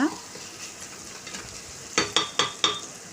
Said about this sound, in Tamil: இந்த தக்காளியை நல்லா மேஷ் பண்ணி விட்டுருங்க